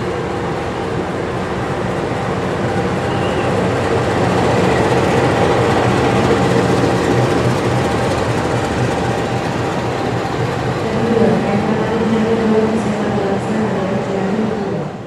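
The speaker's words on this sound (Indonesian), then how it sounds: "Lokomotif datangan kereta Harina baru dilansir Rek." Argo Bromo Anggrek train locomotive being shunted, a loud continuous rumble of diesel engine and rolling rail noise close by, steady throughout.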